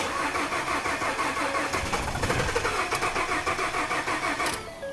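A Ford F-150 EcoBoost engine cranks steadily for about four and a half seconds without catching, a continuous loud starter whir that cuts off abruptly near the end.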